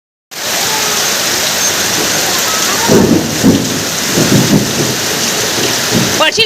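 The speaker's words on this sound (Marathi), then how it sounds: "जोर जोरात पावसाला सुरुवात झाली" Heavy monsoon rain pours steadily and loudly, with low thunder rumbling in several rolls partway through, and no voices.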